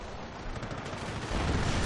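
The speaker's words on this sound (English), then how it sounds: "Off-map artillery coming down. Off-map and on-map." Off-map and on-map artillery shells coming down in a World War II strategy video game, a dense continuous rumble of overlapping blasts that swells louder toward the end, with no voices over it.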